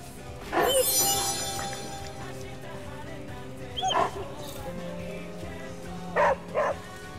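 Dog in the video game Midnight Suns, a few short barks and yips spaced apart over a soft background hum, with a voice speaking nearby.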